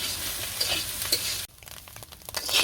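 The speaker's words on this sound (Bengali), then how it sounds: "এই যে মাছের ডিম বানছি কাতল মাছের" Catla fish roe fries in a pan in a village kitchen, sizzling loudly at first, then dropping to a quieter crackle with scattered pops and scraping.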